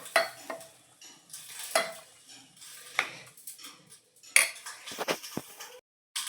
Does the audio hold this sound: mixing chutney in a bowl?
yes